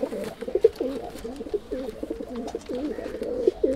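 Pigeons of a fancy breeding line coo in a steady run of soft, low, rolling calls, close by, with faint background noise and no talk.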